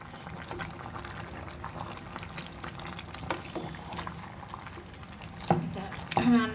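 Lentils and bean seeds boiling in a pot, a steady bubbling simmer with scattered pops and a few clinks near the end, heard under intermittent talk.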